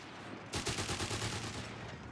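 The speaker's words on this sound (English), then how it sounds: "Did we just see them shooting at an empty building?" Sustained automatic gunfire aimed at a building in Company of Heroes 3, a rapid, even rattle of shots at moderate distance beginning abruptly and continuing to the end, with no talk.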